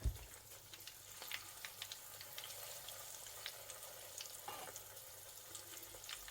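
Fish cakes made from canned fish and basil fry in hot oil at medium heat, giving a quiet, steady sizzle with scattered pops and crackles throughout, no talking.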